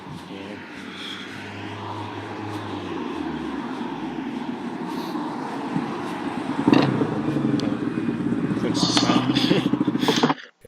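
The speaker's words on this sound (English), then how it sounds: "So as soon as I go past the quad bike starts its engine." A quad bike engine starts and runs, a low motor drone building steadily over about ten seconds with a rising rev near the end, heard amid outdoor background noise.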